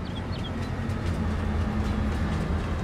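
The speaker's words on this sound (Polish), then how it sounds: "Pociąg sobie delegancko dojeżdża." A train arriving in Farming Simulator 22 gives a steady, loud rumble and rolling drone that holds throughout, close by and with no voices over it.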